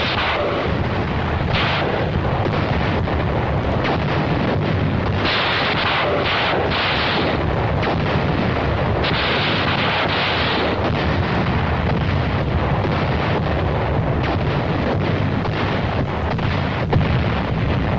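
Continuous heavy naval gunfire and explosions during the Inchon landing in Korea, shells striking ammunition dumps on a small island, a dense, roaring barrage of blasts rumbling without pause throughout.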